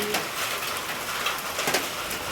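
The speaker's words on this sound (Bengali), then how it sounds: "শুধু শিলাবৃষ্টি" Hailstones fall in a dense, steady clatter with no real rain, a close, continuous rattle of pellets striking surfaces throughout, without any talk.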